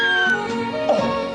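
A cat gives a single drawn-out meow, close and clear, with no other sound competing.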